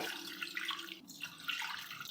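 Water poured into a cooking pot for basmati rice: a steady, splashing stream running for a couple of seconds, close and moderately loud, with no talk over it.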